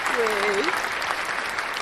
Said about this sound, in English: And now let's have a round of applause for Tennessee Taz.